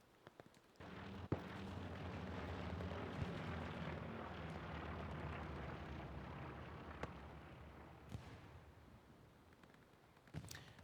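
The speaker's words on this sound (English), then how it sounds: "Bombing run goes in on Lumberworks." Sustained rumbling roar of bombing-run explosions and aircraft noise in a World War II video game on the Lumberworks map, broad and steady with a few sharp bangs over about ten seconds, no talking.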